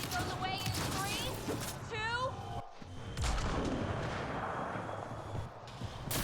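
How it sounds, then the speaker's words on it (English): Grenade blast in the sci-fi shooter Mass Effect: Andromeda, a heavy booming burst with rumbling debris that follows a brief dropout, set in dense game combat noise with voices talking over it. "Dude, was that just a grenade?"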